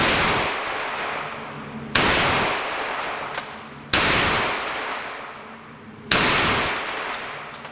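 A CZ Scorpion fires four loud, sharp shots about two seconds apart, each a hard crack followed by a long ringing decay outdoors.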